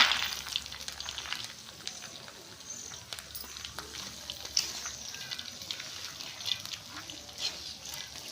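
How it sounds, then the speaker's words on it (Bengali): Boiled corn kernels sizzle in hot oil with curry leaves and dried chilli, a fairly quiet, steady hiss with scattered crackles and light scraping, heard close without speech. "এবার আমি ভুট্টাগুলো ঢেলে দিচ্ছি তেলের মধ্যে"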